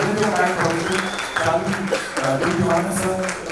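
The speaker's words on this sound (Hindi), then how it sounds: "एक बार सबके लिए जोरदार तालियां हो जाए।" Audience clapping at a film trailer launch event, brisk applause running under amplified talk from the stage, fairly loud and continuous for a few seconds.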